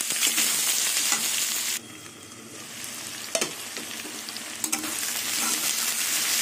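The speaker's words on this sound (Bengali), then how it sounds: "এবার ডাঁটা দিয়ে কিছুক্ষণ ভেজে নেব" Ghetkol stalks frying with potato and onion in a pan, a steady loud sizzle with stirring scrapes that drops briefly quieter midway, then returns, no talk.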